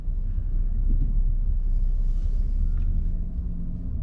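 A 2022 Mitsubishi Outlander's 2.5-liter four-cylinder engine hums as a low, steady rumble while the SUV drives on the interstate, with road noise beneath and no talk.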